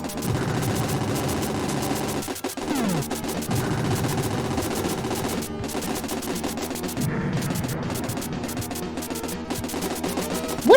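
Retro Satellaview video game combat against a huge tank, with rapid repeated gunfire bursts and crunching explosion effects over a busy chiptune soundtrack, loud and continuous.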